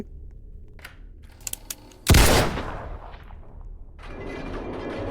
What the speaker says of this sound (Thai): อีกิงโดนยิงหรอ ไม่โดนไม่โดน หลบหลบหลบหลบ